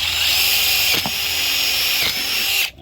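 A power drill bores a starter hole through a cheap plastic barrel being made into a raised bed, whining steadily and loudly for nearly three seconds with a couple of brief dips in pitch before cutting off.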